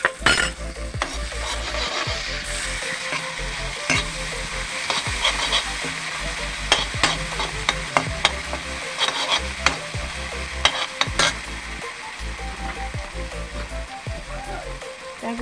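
Ginger garlic paste frying in hot oil for an Assamese taro stem dish, giving a steady, close sizzle throughout with repeated scraping and stirring clatter from a spoon against the pan.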